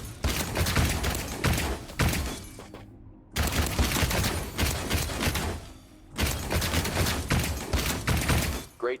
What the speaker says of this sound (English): Switch the weapon to second mode and shoot down the target with plasma